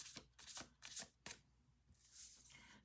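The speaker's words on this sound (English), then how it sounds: "We're gonna do 2 more shuffles." A deck of cards being shuffled: several quick riffling bursts, then a softer, longer riffle, close up and fairly quiet.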